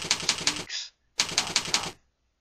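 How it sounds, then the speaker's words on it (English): Typing on a computer keyboard comes in two quick bursts of close, crisp keystrokes separated by a short pause, then silence, with no talking. "I'll just type that in"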